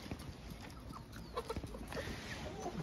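Chickens raised for sale cluck in short scattered calls over a steady farmyard background, close and moderately loud with no talk.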